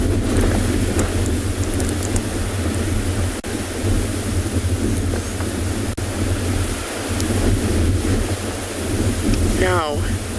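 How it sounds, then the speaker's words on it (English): Strong wind buffeting an outdoor microphone during a sunrise safari at Tswalu, a loud continuous roar of gusts with low rumbling thumps throughout and a brief bird call near the end. "You can also see just how windy it is."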